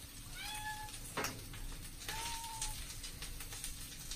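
A cat meows twice, a short call then a longer one, fairly close against a steady background hiss, with a faint knock between.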